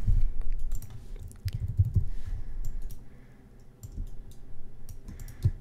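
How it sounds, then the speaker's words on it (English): Keys pressed on a computer keyboard during graphic design work in Adobe Illustrator, a few faint, scattered clicks under a low background hum, with no talking. "I'm hitting I on my keyboard."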